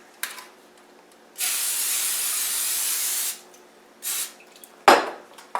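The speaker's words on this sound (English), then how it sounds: "First thing I'm going to do is I'm going to spray it." An aerosol can hisses in one long spray and a shorter burst, close up, followed by a clatter of a pan.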